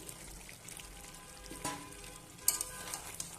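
Pointed gourd and potatoes hitting hot oil with chicken in a pan, a soft sizzle with stirring scrapes and a couple of sharper clatters near the end.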